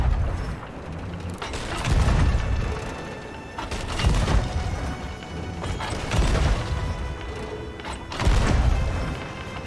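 Cannon shots from a pirate ship in the game Sea of Thieves strike an enemy vessel, giving a series of loud booming crashes and creaking wooden impacts about every two seconds.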